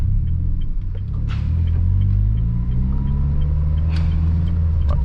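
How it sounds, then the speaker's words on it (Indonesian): A Honda Mobilio engine pulls in second gear as the driver adds throttle. It gives a steady, close, low rumble, and its engine tone climbs as it revs. No one speaks. "Masuk gigi 2 meraung ya"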